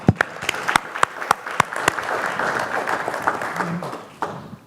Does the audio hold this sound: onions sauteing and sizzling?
no